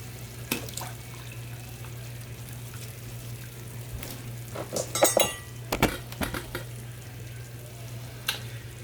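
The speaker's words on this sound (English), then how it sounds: "I am serving some pasta onto a plate right now" Pasta being served onto a plate with utensils, giving scattered metallic clinks and light scrapes that cluster in the middle, over a steady low kitchen hum with no talking.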